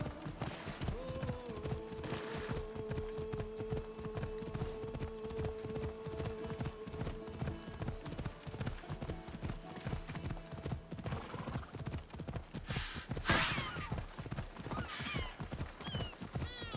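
Rapid, steady clip-clop of horse hooves trotting along in the video game Assassin's Creed Odyssey, continuous throughout, with a brief whinny partway through.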